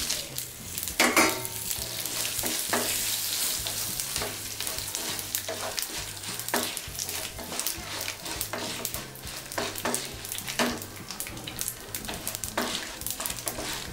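Spice tempering frying in a pan for coconut chutney, with dried red chillies in the oil, a close continuous sizzle with crackling pops and occasional stirring scrapes, no talk.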